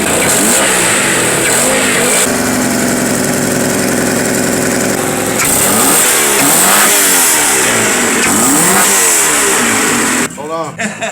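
A Honda car engine with broken head studs revs hard in repeated rising and falling bursts, loud and close, settling toward idle near the end, with people talking over it.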